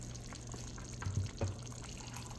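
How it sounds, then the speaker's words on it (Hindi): Hot water poured into a pan of beef kofta makes a faint, soft trickle and splash, with a couple of slightly louder gurgles near the middle. "गर्म पानी मैं इसमें डालती हूँ"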